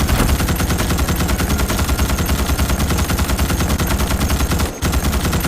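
Dense automatic gunfire in the Starship Troopers: Extermination video game, as troopers shoot bugs attacking a base; loud, rapid continuous bursts fill the whole stretch, with one brief gap near the end.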